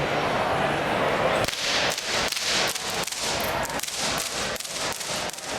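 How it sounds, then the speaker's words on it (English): A small whip used for herding chickens and geese is cracked repeatedly, giving a series of sharp, loud snaps at irregular intervals over a background of outdoor crowd noise. "I want you to show how easy it is to crack the whip."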